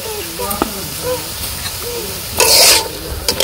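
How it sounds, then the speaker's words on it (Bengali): Vegetables frying in a pan with turmeric, salt and dried and green chili, a brief sizzle and a few stirring scrapes, with a louder burst of frying partway through and some background voices. "সবজিগুলা ভালো করে কষিয়ে নিই"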